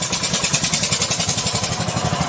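An Eicher or Farmtrac tractor engine runs after starting, a loud steady diesel chugging with a rapid, even rhythm and a clattering, close-up tone throughout.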